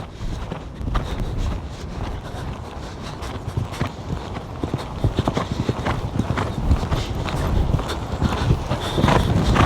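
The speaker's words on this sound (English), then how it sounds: "So I liked the canter, it just needed to be bigger." Horse cantering over a jumping course during training, rhythmic hoofbeats thudding steadily and clearly across the whole stretch, growing slightly louder toward the end, with no talk over them.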